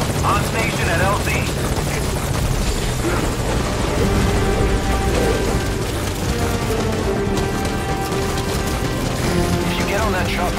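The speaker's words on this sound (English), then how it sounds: "If you get on that chopper, you'll be aborting the mission." Helicopter in the video game Metal Gear Solid V: Ground Zeroes, its rotor thumping loudly and steadily throughout with a dense mechanical whine.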